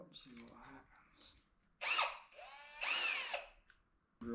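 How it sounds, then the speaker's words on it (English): A power drill boring a small pilot hole during work on a 1940s church's windows, two loud bursts of motor whine with a brief pause between, following a stretch of quiet talk and handling noise. "Drill me a little pilot hole."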